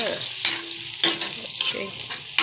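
Garlic sizzles in a hot pan while being stirred, with a bright continuous crackle broken by rhythmic scraping strokes of a utensil, close and clear.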